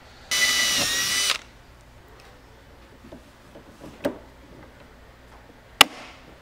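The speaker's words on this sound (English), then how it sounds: "Then before drilling the second hole, just re-verify this angle and your height." A power drill bores a hole through a 5th Gen Camaro's rear deck while a strutless drag wing is being installed, one short loud burst of about a second, followed by quiet with a few faint clicks and a sharp tap.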